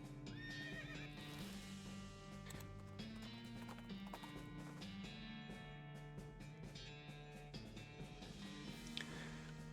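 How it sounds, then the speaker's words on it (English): Horse ridden at a hard gallop by a bandit in the video game West of Loathing, with rhythmic clip-clop hoofbeats throughout and repeated whinnies and neighs over game music, fairly quiet overall. "A nearby cloud of dust turns out to be a bandit on a horse riding hell for leather for unknown reasons."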